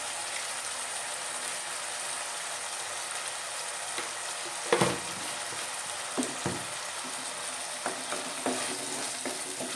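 Ingredients for a Kerala-style fish curry, seasoned with salt and turmeric, sauté in a pan with a soft steady sizzle, while a utensil scrapes and stirs in a few brief clinks and knocks.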